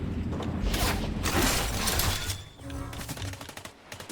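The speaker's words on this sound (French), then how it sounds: "mais je me fais tirer au-dessus" Gunfire aimed at the player in Fortnite, a burst of rapid cracking shots and mechanical clatter up close, fading into scattered lighter pops toward the end.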